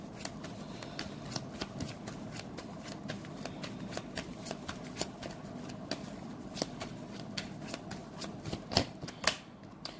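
Tarot cards shuffled by hand in a steady run of crisp riffling snaps and flutters, close and fairly quiet, alone without talk, with a few louder slaps near the end.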